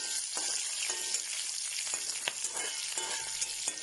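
Curry leaves with split green chillies and dried red chillies fry in hot oil in a pan, giving a steady close sizzle with small pops and occasional stirring scrapes.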